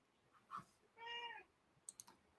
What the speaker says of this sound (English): The cat is being goofy.